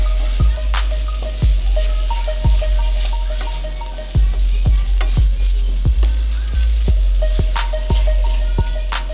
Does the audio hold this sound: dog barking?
no